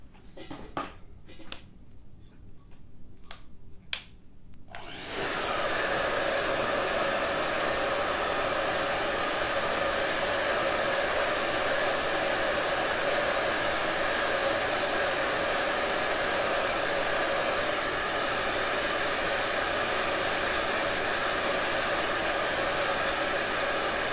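A hair dryer drying paint on a winter snowman craft starts after a few quiet seconds of faint clicks and then runs as a loud, steady, close blowing roar for the rest of the clip.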